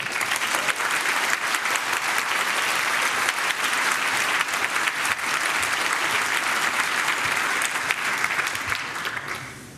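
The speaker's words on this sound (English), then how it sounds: "Please give us a warm round of applause for our next speaker, Natali Silvanovic." A crowd applauds warmly for a conference speaker for about ten seconds, dense continuous clapping that holds steady before tapering slightly at the end.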